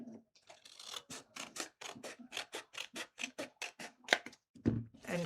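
Scissors cut paper for a vegetable garden mini folio, a quiet, close series of about twenty rhythmic crisp snips followed by a few soft rustles.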